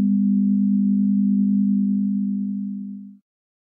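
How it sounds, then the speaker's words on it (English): A single pure low sine tone holds steady for about three seconds, then fades out quickly into silence. "The result is a virtual sound that's perceived at the difference frequency as a beat or wobbling effect."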